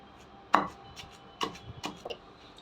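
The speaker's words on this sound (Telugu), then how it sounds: "చిన్న ఉల్లిపాయలు వేసేసుకుంటున్నానండి, దంచుకుందాం" Small onions are pounded in a mortar for a peanut chutney: a handful of dull, irregular thuds, fairly close, with short gaps between strikes.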